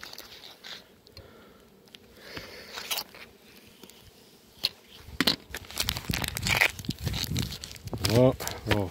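A half-bag of bee candy in plastic is cut in half at an apiary, giving crisp crinkling, tearing and crunching bursts that thicken in the second half, close to the mic, after a quieter stretch with faint voices.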